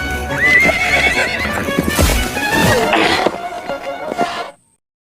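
A horse neighs loudly amid clattering hoofbeats in a sword-fighting action scene from the film The Mask of Zorro, the busy clip-clop and whinny cutting off abruptly into silence.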